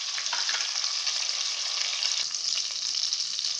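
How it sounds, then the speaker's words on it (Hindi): Fish fries in a pan with a dense, continuous hiss of sizzling oil, loud and close, steady throughout with faint crackling and no talk. "देखिए कितने अच्छे से फ्राई हो चुकी है।"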